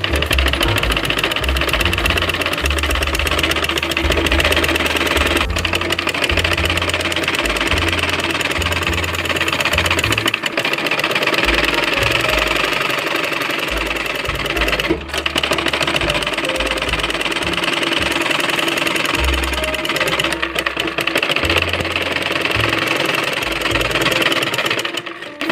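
A sewing machine runs loud and close for a long stretch, joining the gathered skirt panel (ghera) to the bodice of a child's umbrella frock. Its motor hum starts and stops in bursts, with steady mechanical stitching throughout.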